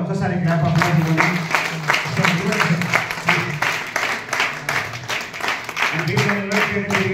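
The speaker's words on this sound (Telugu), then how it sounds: "ఒక్కసారి వాళ్ళకు కూడా ఒక్కసారి క్లాప్ అప్లైజ్ ఇవ్వండి." An audience claps and applauds at a property advisors' gathering, a steady dense patter of many hands continuing throughout with some voices mixed in.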